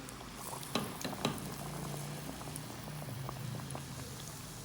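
Potato pakoras frying in hot ghee give a steady, faint bubbling sizzle with small crackles and a couple of sharper pops near the start, and no voices over it.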